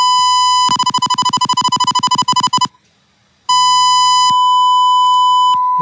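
Steady test tone from an LM386 audio power amplifier played through a computer speaker, first pulsing in rapid repeated beeps, then a short gap, then a sustained loud continuous tone.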